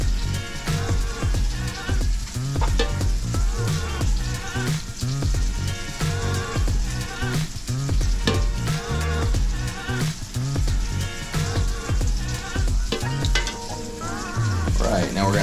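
Grouper fillets fry in olive oil in a skillet, a steady, dense crackling sizzle that holds loud and even throughout with no voices.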